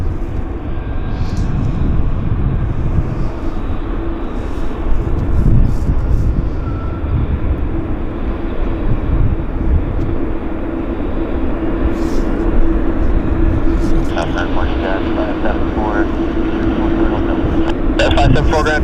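An airliner arriving from Toronto lands at Vancouver airport, a steady broad engine roar that stays loud throughout, heard outdoors while someone talks over it.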